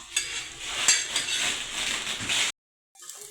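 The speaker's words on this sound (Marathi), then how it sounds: "शेगडीवर मसाला भाजून घ्यायचं काम" Masala being roasted in a pan on a stove, with close, busy scraping and clinking of a utensil that stops abruptly near the end.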